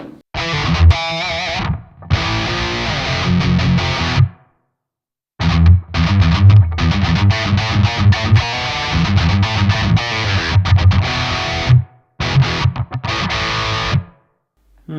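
Heavily distorted electric rhythm guitar dialed in for a particular tone, playing tight, chugging riffs in loud phrases broken by abrupt silent stops.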